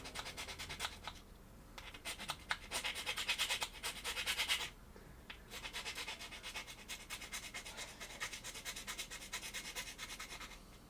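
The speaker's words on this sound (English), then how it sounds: "let me go ahead and do a little bit of cleanup filing here, just to get those inside edges" Hand file working the inside edges of a plastic model kitbash, quiet close rasping strokes in rapid bursts with short pauses between passes.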